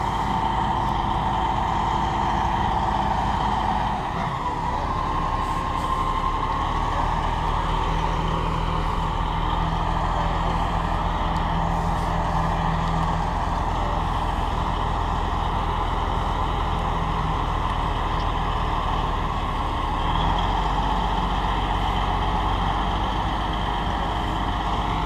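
Truck hauling a Kropf Econolift 60 ton trailer, a loud continuous engine drone and road rumble with a brief dip and shift in tone midway, no talk.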